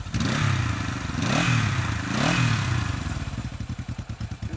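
A 1973 Honda CB450 motorcycle engine idles up close, its loud uneven rumble swelling and settling a couple of times before falling into a steady pulsing idle beat, with no talking.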